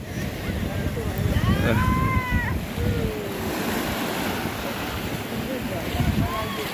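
Sea waves wash steadily onto Digha beach, a broad continuous rush of surf mixed with wind across the microphone, with a few faint thin tonal calls drifting above the roar.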